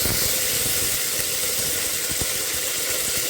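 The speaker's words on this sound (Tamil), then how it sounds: "பொடியை கட் பண்ணி வச்ச பூண்டை சேர்த்துக்கலாம் பூண்டு கொஞ்சம் உதங்கட்டும்" Chopped garlic frying in hot oil for a mixed vegetable kurma, giving off a loud, steady, close sizzle with a constant bright hiss and a few small pops.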